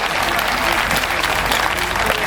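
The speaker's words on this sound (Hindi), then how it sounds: "ये लोग जो तालियां बजा रहे हैं" A crowd at a kavi sammelan poetry show claps steadily, thick overlapping applause that stays loud throughout, with a faint murmur of voices beneath.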